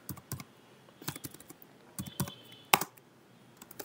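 Typing on a computer keyboard while writing Java code: a few separate keystrokes in a loose, irregular rhythm, close and clear, with one sharper click near the end and no talking.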